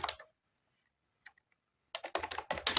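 Keys clatter on a computer keyboard in short bursts, a brief flurry at the start and then dense, rapid typing near the end, close and fairly quiet.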